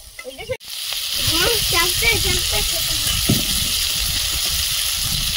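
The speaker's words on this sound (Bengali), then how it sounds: "চিংড়িটা ভাজা হয়েছে" Shelled shrimp sizzle and crackle steadily in hot oil in a pan, a close and constant frying hiss, with a brief voice murmuring near the start.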